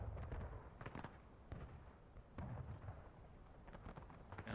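Several heavy cannon booms go off one after another over a continuous rumble of distant battle noise in the American Civil War game War of Rights.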